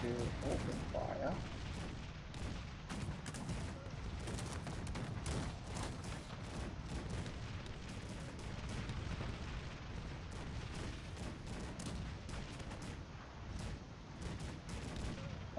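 Cannon and gunfire rumble through a battle in the strategy game Cossacks 3, with dense, continuous booms and crackling volleys overlapping for the whole stretch, heavy and loud with no clear pauses.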